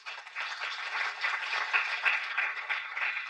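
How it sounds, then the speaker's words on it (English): Applause from a conference audience honoring guest speakers at a World IPv6 Day follow-up event, a steady, moderately distant patter of many hands clapping that runs throughout without talk. "Please give them a round of applause."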